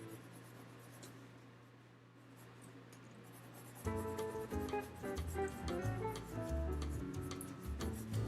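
Pencil shading lightly over a drawing's background on paper, a soft steady rasping scratch that runs continuously, growing busier and louder partway through, with no voices.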